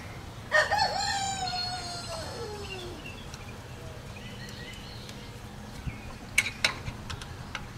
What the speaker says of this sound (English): Of course, all the chickens got to come up behind me now while I'm recording.